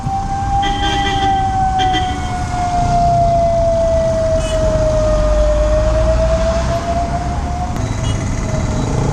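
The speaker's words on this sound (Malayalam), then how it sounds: "ബാക്കിലൊരു ആംബുലൻസ് വരുന്നുണ്ട്." An ambulance siren wails in one long, steady, slowly dipping tone over constant road rumble, loud and near, heard while riding a motorcycle.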